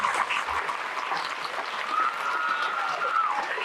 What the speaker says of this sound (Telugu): ఒక్కసారి మీ టీచర్లందరికీ చప్పట్లు కొట్టాల్సిందిగా మిమ్మల్ని కోరుతా ఉన్నా.